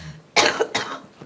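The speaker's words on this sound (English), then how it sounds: "this cough is killing me" Two harsh coughs in quick succession during a county commission meeting, close and loud, with a faint trailing rasp afterward.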